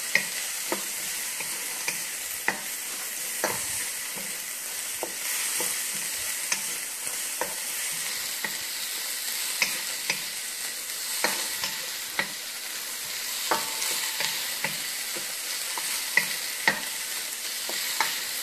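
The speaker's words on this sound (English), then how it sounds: "So I'm gonna let the veggies cook for just a little while." Carrots, baby bok choy, sugar snap peas and bean sprouts stir-fry for beef fried rice, a steady close sizzle broken by regular sharp clicks and scrapes of a utensil against the pan, with no talking.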